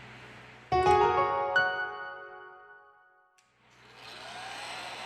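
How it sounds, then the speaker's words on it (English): Heat gun blowing hot air onto an Oppo A72 phone during a battery replacement, a steady airy hiss at the start that returns and builds near the end, with a ringing clatter in between. "With the help of a heat gun, we apply 90 Celsius degrees during 4 minutes."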